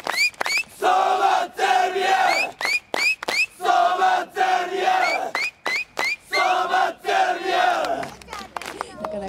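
FC Machida Zelvia football supporters chant a rhythmic call in unison at a street season-report gathering, loud repeated bursts of crowd voices with short gaps and whistles between phrases.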